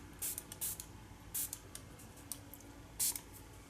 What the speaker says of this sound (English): I'm going to give this page a good spray